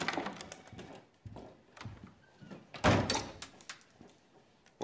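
In a film scene, an old doorknob gives way with a few knocks and thunks at a door, including one louder clunk mid-clip, set against quiet room tone.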